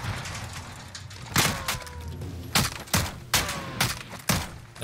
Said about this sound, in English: He just tried to snipe at me.